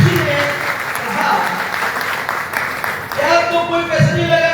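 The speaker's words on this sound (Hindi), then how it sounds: "मैं चाहूंगा इसके लिए जोरदार ताली हो जाए।" Audience applause at a seminar in Delhi, a sustained wash of clapping from a crowd that swells toward the end, with some voices and tones mixed underneath.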